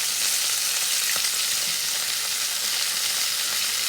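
Steady, dense sizzling of onions, spring onion, peppers and mushrooms frying in a hot pan, with a few faint clinks and stirring sounds, no voices.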